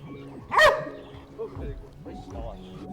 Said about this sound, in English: these Labradors, Golden Retrievers and German Shepherds are trained to detect narcotics and